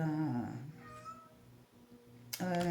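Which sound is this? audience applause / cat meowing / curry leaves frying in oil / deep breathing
cat meowing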